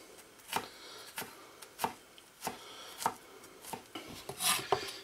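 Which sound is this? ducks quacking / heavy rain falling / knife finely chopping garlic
knife finely chopping garlic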